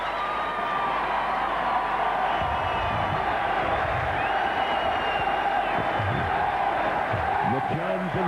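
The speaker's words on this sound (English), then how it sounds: "Highly delighted Wigan crowd" A delighted Wigan rugby league crowd cheers and chants, a sustained stadium roar with whoops and rhythmic chanting swelling over it. A commentator's voice is faintly audible underneath.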